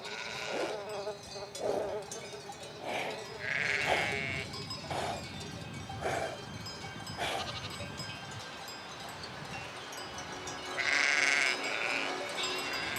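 Sheep and goats bleat repeatedly in a flock, calls overlapping near and farther off over a steady outdoor background, with louder bursts toward the end.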